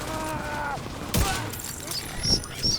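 Automatic gunfire from a firefight against an enemy patrol in the shooter game The Division 2 cracks in loud, rapid bursts over a dense, busy game soundscape.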